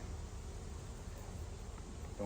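Honey bees buzz as a steady, dense drone throughout a summer hive inspection, close and continuous with no pauses.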